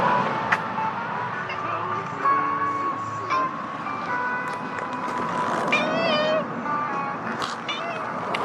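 A big black and white cat meows near a passing listener on a noisy outdoor workout route, its short cries rising over steady traffic and street noise.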